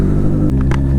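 A Kawasaki Z900 motorcycle being ridden in the rain gives a steady, loud, close low engine drone with a deep rumbling hum that holds throughout and has a few brief brighter flutters near the end.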